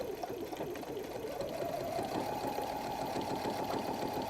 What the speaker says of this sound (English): So I put it into my machine. I back stitch.